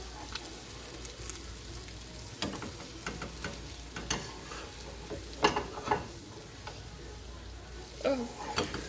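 Eggs fry in a pan with a soft continuous sizzle, punctuated by ticks and scrapes of a utensil working around them, close but quiet.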